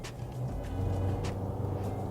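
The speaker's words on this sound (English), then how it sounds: "you do have a 3-liter 4-cylinder turbo diesel that produces 140 kilowatts and 450 Newton meters of torque, which I put on sport mode now" Mazda BT50 with a 3-litre four-cylinder turbo diesel running in sport mode, giving a steady, fairly loud low engine rumble throughout with no talking.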